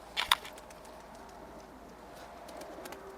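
Pigeons cooing: a couple of brief sharp sounds open the stretch, then soft, faint cooing continues quietly in the background with no talk.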